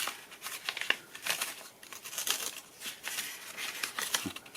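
Several sheets of paper crinkle and rustle up close in bursts of crackling and crumpling, repeated irregularly and heard alone, with no talking, while a carving knife is tested on them.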